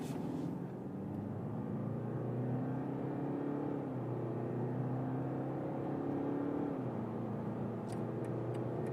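A BMW 5-Series G60 in sport mode accelerates hard from 50 km/h, its engine note climbing steadily through rising revs with a brief shift dip before pulling on, heard as a continuous loud whirring drone from inside the cabin.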